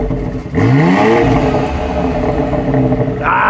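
A 2025 BMW X4 M revs up hard, its engine and exhaust rising sharply in pitch and then holding a loud, throaty drone, heard close with no talking.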